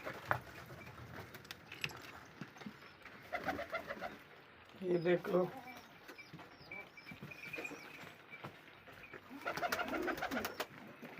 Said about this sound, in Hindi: ये देख लो हमारे कबूतर।